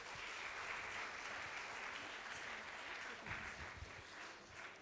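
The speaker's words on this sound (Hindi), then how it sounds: "सोम दीदी एंड पुष्पा दीदी दोनों के लिए जोरदार तालियां।" Sustained applause from an audience at an appreciation award session, a steady broadband wash of clapping lasting throughout with no voices standing out.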